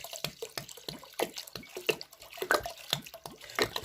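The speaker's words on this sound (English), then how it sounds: "This is my rice and I'm putting water." Water poured onto rice in a bowl for washing, giving irregular close splashes and drips with soft pauses between them, quiet and with no talk.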